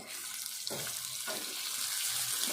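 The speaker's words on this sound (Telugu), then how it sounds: "ఈ ఆలుగడ్డ పీసులు వేసుకోవాలి ఎందుకంటే ఫస్ట్ ఆలుగడ్డ పీసులే వేసుకోవాలి ఇది కొద్దిసేపు వేగాలి" Potato pieces fry in hot oil in a pan for an ivy gourd and potato curry, a steady close hiss of sizzling with a couple of soft low thumps as pieces shift.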